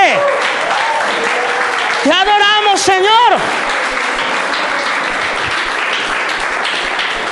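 Loud congregation applause at a church service, a dense steady wash of clapping across the whole stretch, with a voice singing or speaking over it for a moment early on.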